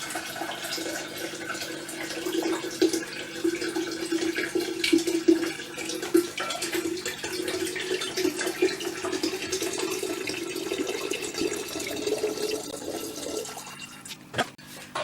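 Coconut toddy pouring steadily into a vessel, a long continuous splashing gurgle close by that thins out and stops near the end.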